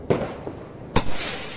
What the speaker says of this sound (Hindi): ओ ये गया हमारा रॉकेट